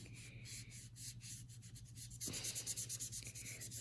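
Marker tip scrubbing back and forth across paper while filling in a shape, a close, steady scratchy rubbing with quick repeated strokes that turn louder and faster partway through, over a low constant hum.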